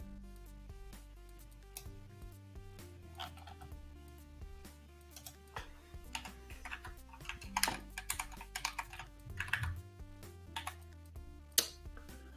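Fast typing on a computer keyboard while coding in Kotlin, irregular bursts of crisp key clicks that grow denser and louder midway, close up, over a low background hum with no talk.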